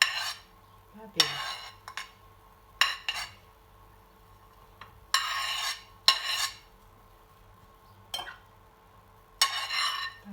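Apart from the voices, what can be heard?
chopped peppers poured into the pan and stirred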